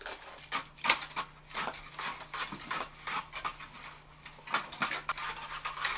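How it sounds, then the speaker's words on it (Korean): Workers carry and split charcoal at a charcoal kiln in Gangwon Province, giving irregular clinks, knocks and scraping clatters of brittle lumps, some sharp and close, others softer, over a faint steady hum. "들어서자마자 숯을 나르고 쪼개는 인부들의 모습이 보입니다"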